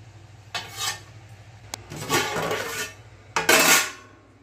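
A lid settles onto a pot of Bangladeshi Kacchi chicken biryani, with several clattering metal scrapes and clinks in separate bursts, close and fairly loud against a quiet background.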